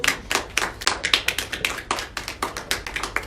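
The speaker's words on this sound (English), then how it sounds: "Let's give them a little applause if you don't mind." A small audience at a report presentation gives a short round of applause, with sparse, distinct claps in a fairly steady rhythm, near and moderately loud, and no talking.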